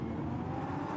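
Lamborghini Super Trofeo race cars at speed on the Vallelunga track, a brief, fairly faint engine roar from a distance with no talk.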